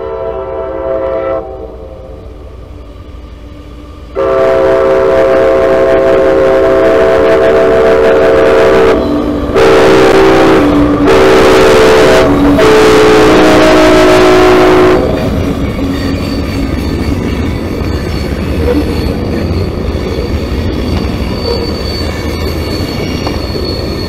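A southbound freight train on the Fitzgerald subdivision rumbles past loudly, its horn sounding in several long blasts, followed by the heavy roar and clatter of cars rolling by.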